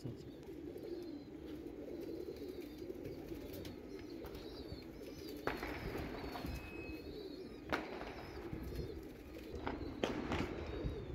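Pigeons in a city pigeon loft, including tournament racing birds, give low cooing calls over a steady murmur of background noise, with occasional soft chirps and wing flutters at moderate distance.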